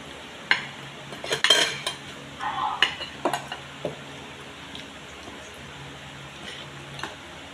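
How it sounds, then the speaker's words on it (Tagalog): Spoons and cutlery clink against plates during a quiet breakfast: scattered sharp metallic taps and scrapes, a busier cluster early on, then sparser clinks with soft background between. "Ayaw marinig pati kalansing ng pinggan tsaka kutsara."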